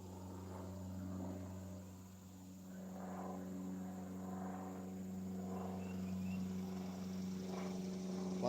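Planes drone overhead above a wet Sunday-morning garden with an orange tree, a steady distant rumble rising and falling in soft waves over a faint constant hum, no voices.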